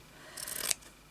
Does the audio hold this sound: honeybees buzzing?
no